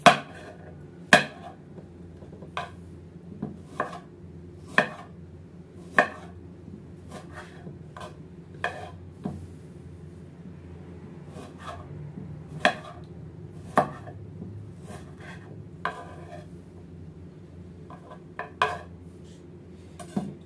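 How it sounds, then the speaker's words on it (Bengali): Tomatoes are cut with a knife on a board in a home kitchen: a long run of crisp, irregularly spaced chopping knocks, close and fairly loud, with no talking. "টমেটোগুলো কাটতে হবে ঠিক এইভাবে।"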